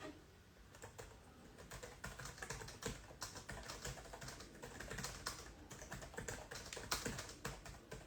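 Rapid, steady typing on a wireless computer keyboard with a low battery, close up, with irregular clicking keystrokes throughout and no voices.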